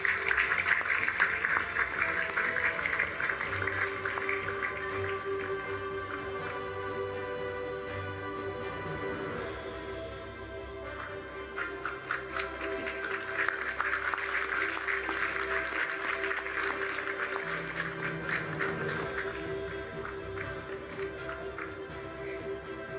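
An audience at a Board of Governors opening plenary session breaks into sustained applause that fills a large hall, with dense clapping that swells and continues for over twenty seconds over a steady background tone.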